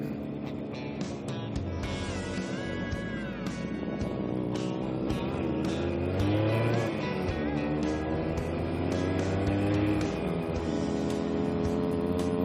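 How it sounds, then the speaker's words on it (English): A vintage two-stroke vehicle engine runs at an outdoor classic bike and car festival in Wiltshire, a continuous buzzing drone that rises and falls in pitch as it revs, fairly close and steady for the whole stretch. "enjoy the two-stroke noises."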